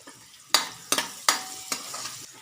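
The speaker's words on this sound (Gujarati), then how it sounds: "આપણે સરસ હલાવી લેવાનું છે." Chopped onions sizzle in a hot pan while a spoon stirs them in four or five sharp scraping strokes, close and clear over a steady soft fry, with no talk.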